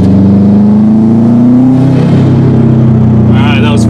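A 2005 Subaru WRX STi engine pulls hard under boost, its loud rising drone climbing steadily in pitch for a couple of seconds, then easing off with a brief hissing release at the end.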